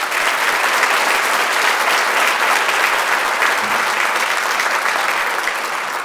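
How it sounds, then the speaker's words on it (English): A dinner crowd at a tribute to teachers and staff gives a round of applause. The clapping is loud, dense and sustained, with no break throughout. "let's give them one more round of applause"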